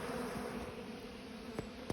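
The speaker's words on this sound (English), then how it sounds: "There's actually a bee after landing on the phone now." A honeybee crawls on a phone right beside the camera at a beehive, giving a steady, close insect buzz with a low droning hum that runs throughout, alone and without talk.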